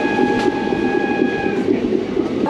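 The Jagannath Express passenger train stands at Khurda Road station, and its deep, steady rumble runs with faint sustained humming tones. It is loud and close throughout, with no voices.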